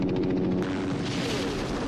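An explosion in the 1982 movie The Thing, a loud booming blast with rumbling low-end and a sharp crack partway through, fading into a rolling roar.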